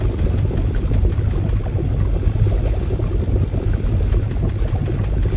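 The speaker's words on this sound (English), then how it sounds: "Literally lava flumes bubbling away with even more creepy sounds added" Lava bubbling in the Fortnite video game, a dense, loud, continuous low churning rumble with steady gurgling texture throughout.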